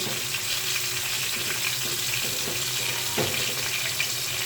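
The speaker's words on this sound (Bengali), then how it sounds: "গাজরটা আমি ঘির ভিতরে ভেজে নিব" Grated carrot fries in ghee with a steady, close sizzle, a continuous crackling hiss with a few faint stirring knocks underneath.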